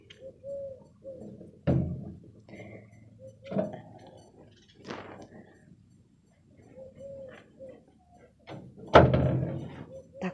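Birds call softly in a village yard in the early morning. Low, cooing calls repeat at intervals, broken by a few dull knocks and thumps close by.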